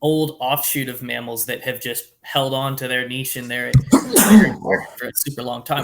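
Someone talks steadily, then a loud, abrupt sneeze cuts in near the middle, followed by more talking.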